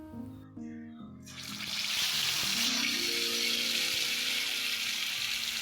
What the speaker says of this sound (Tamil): நான் இப்போ பிரியாணிக்கு சைட் டிஷ்ஷாக சிக்கன் 65 பொரிச்சிக்கிட்டு இருக்கேன்